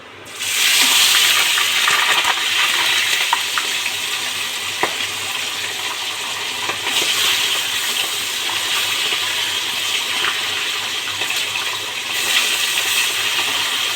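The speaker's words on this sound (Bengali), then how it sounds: "আমি এখন মাছটা ভাজবো সুন্দর করে মাছটা ভাজতে হবে" Small khalisha fish fry loudly in hot oil in a pan, a dense continuous sizzle and crackle at close range with occasional faint clinks, steady throughout.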